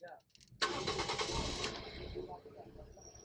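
A used car at a market in Kampala, Uganda, cranks and catches on start, a sudden loud burst that settles into a steady idle, with talking nearby.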